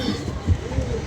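Pigeons cooing near a rooftop pigeon loft, low soft coos rising and falling under a background hum and faint voices, fairly close.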